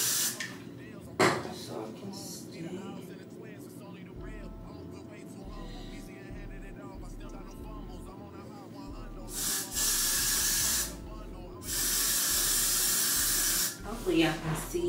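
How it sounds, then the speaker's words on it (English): Several long, loud bursts of aerosol hair spray hiss close by, the longest lasting a couple of seconds, with quieter rustling and handling noises between them. "spray my hair"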